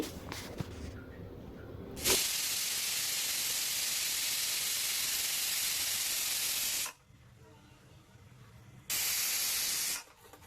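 A pressure cooker steaming dal and spinach lets out a long, loud, steady hiss of escaping steam lasting several seconds, then a shorter burst after a pause, close by with no talk.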